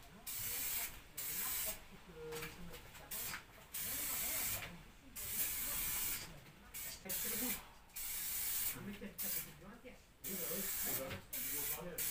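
A spray paint can used to customize a Peugeot 103 Fox moped hisses close by in a long run of steady bursts, broken by short pauses of varying length.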